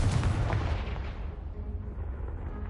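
A Confringo blasting spell bursts in Hogwarts Legacy, knocking away a pile blocking a stairwell, a loud booming explosion at the start that rumbles and fades over a few seconds.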